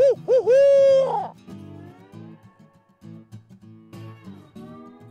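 A voice imitates an owl's hoots to spur wild turkeys into gobbling during a spring turkey hunt: a loud, close run of rising and falling hoots at the start, then fading into quieter outdoor background sound.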